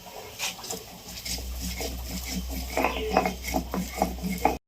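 Fried cumin, black pepper and boiled chillies being ground into paste on a stone, with a steady low rumble under scraping and knocking strokes, close and moderately loud.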